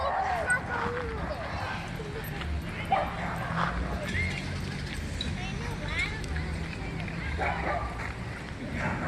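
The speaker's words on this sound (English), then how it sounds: "Doggy wrestling. Dog wrestling. Dog wrestle." Dogs wrestle at a dog park, giving off scattered barks, yips and whimpers against busy outdoor background noise, while a person talks throughout.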